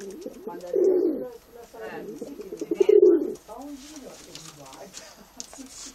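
A pet pigeon named Giò coos close by in soft, throaty bursts, two stronger rolling coos separated by quieter murmurs, while a person talks softly alongside.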